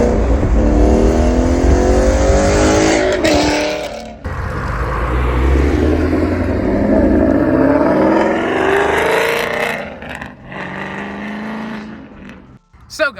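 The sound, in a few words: Coyote Mustang accelerating in a pull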